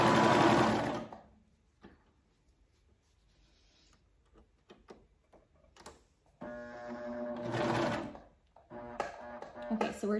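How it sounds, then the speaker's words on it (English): A serger overlock machine finishes a pants seam in two bursts of fast, whirring stitching, close and fairly loud, separated by quiet handling clicks and rustles of fabric. "This serger that I have here, it doesn't let you turn your knife off."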